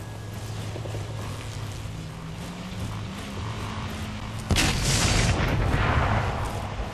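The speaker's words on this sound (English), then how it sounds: "Who's shooting at me?" Gunfire and blasts in the video game Blacklight: Tango Down, a deathmatch round with shotguns, rumbling bursts under a low mechanical hum, then a sharp loud boom around midway that leaves a long noisy rumble.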